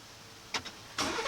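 A Ford F-150 pickup fitted with an aftermarket STARTX remote start kit starts up: a short burst of cranking, then the engine catches and settles into a steady idle, close by and with no voices.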